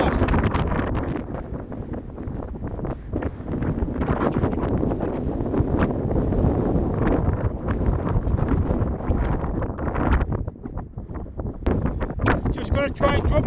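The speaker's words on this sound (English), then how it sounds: "Just going to try and drop out this wind." Wind buffets the microphone on a hill walk through the Cheviot Hills, a loud, constant rumbling roar of gusts with brief lulls near the end.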